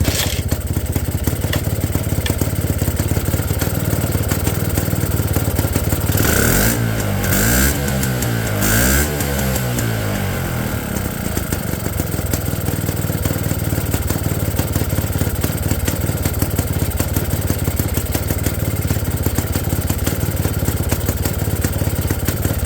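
Engine of a 1966 Puch Allstate motorcycle idling on choke while still cold, a loud steady close-up putter throughout, with a brief uneven revving surge near the middle before it settles back.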